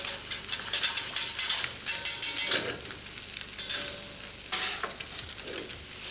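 Potato pancakes sizzle and crackle steadily in a hot pan, with occasional stirring and scraping sounds, fairly close and continuous.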